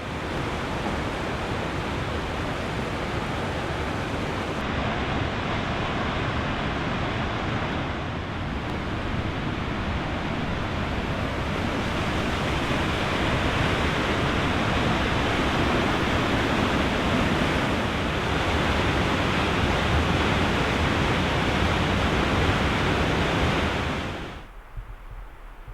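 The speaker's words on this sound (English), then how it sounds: "we saw Crescent Falls, so we stopped to look at, because as you might know, we love waterfalls" Crescent Falls, a waterfall in Alberta, roars as a steady, loud, broadband rush of falling water, unbroken for about 24 seconds before dropping off sharply at the end.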